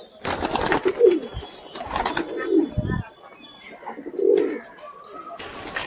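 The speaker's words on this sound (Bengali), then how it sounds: "পায়রা বিভিন্ন পায়রা আছে এখানে" Desi pigeons coo in a few low, throaty bursts spaced a couple of seconds apart, close by, with soft rustling and a brief flutter between calls.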